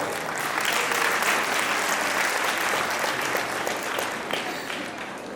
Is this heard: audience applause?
yes